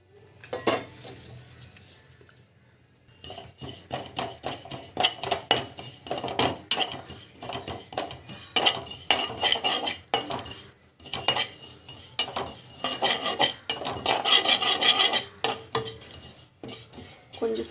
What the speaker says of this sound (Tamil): எள்ளு வந்து வறுத்துக்கலாம்.